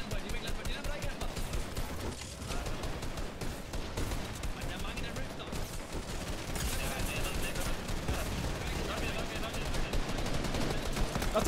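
Rapid gunfire in an online battle royale video game during a Razer Cup match, bursts of automatic shots and scattered single shots under frequent excited Danish talk from the players.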